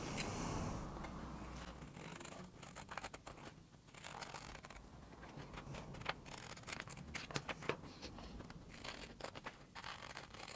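Scissors snip and scrape steadily through a paper face mask pattern, a continuous run of close, crisp cuts and rustling paper with no voices.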